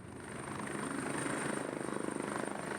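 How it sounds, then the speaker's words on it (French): A New York police helicopter flies overhead, its steady rotor chop and engine drone continuous and moderately loud throughout, with a faint high whine above. "Ces hélicoptères embarquent plusieurs caméras de précision."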